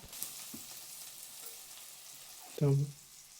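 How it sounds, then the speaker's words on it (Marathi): Small desi curry leaves sizzle in hot oil with a soft, steady crackling hiss, followed near the end by a brief louder burst. "आता टाकणार आहे मी कढीपत्ता"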